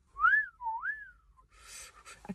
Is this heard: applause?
no